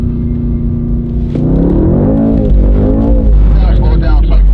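Mercedes-AMG E63S or C63S at a drift school, its engine revving loudly and rising in pitch as the car slides, heavy low rumble throughout with voices talking over it inside the cabin.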